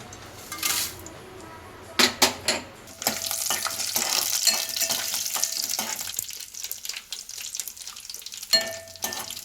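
Frying in a pan: a few sharp clanks of a utensil, then a dense close sizzle that runs steadily and fades slightly toward the end, with a final pan knock and no talk.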